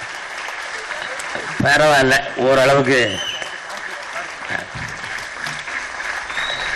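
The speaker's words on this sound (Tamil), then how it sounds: "பலத்தை கைத்தட்டுங்க தயவு செய்து" Audience applause at a Tamil film audio launch: steady, dense clapping fills the hall throughout while someone speaks over it briefly in the middle.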